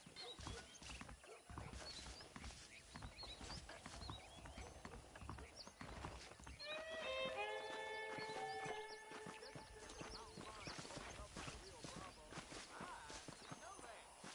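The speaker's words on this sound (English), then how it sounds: "The horses are saddled up over here." Saddled horses in the Red Dead Redemption video game, with clip-clop hooves and a whinny standing out over steady music and game sound while someone talks throughout.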